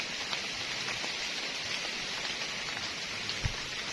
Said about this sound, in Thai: ฝนตกอ่ะ